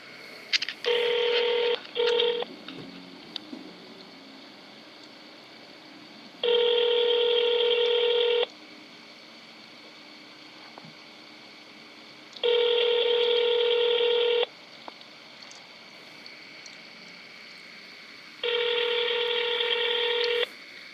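Touch-tone telephone dialing while placing a call: a quick burst of several keypad beeps, then three longer, evenly spaced tone blocks about six seconds apart, clear and close over a faint hiss.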